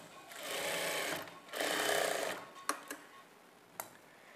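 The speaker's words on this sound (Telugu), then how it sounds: "ఇలా స్టిచ్ చేసుకున్న తర్వాత ఇప్పుడు ఇదే స్టిచ్ మీద ఇంకొక స్టిచ్ వేసుకోవాలి" A sewing machine stitching a plain straight-cut blouse runs in two steady close bursts of rapid needle chatter, followed by a few sharp clicks as the fabric is adjusted.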